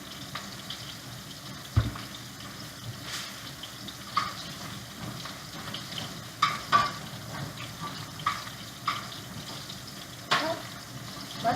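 Mushrooms sautéing in a little olive oil in a pan while a ribeye steak cooks, a steady close sizzle with occasional clicks and scrapes of stirring.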